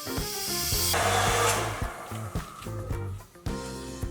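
A handheld hair dryer blows steadily while drying hair indoors during a morning routine, a continuous loud airy roar with slight shifts as it moves, running throughout under soft background music.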